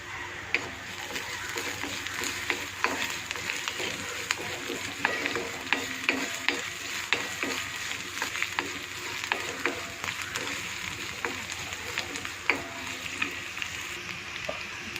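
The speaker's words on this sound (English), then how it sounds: "Now I am going to add the ginger and garlic." Ginger and garlic sizzling in a pan with well-sautéed onions, a steady frying hiss with frequent scraping and stirring clatters throughout, close and fairly loud, no voices.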